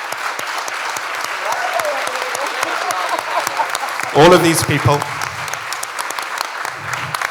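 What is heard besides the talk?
audience applause at summit panel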